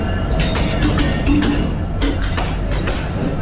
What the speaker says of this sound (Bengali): 9:58-তে এই যে আমাদের কুড়িগ্রাম এক্সপ্রেস ঢুকতেছে।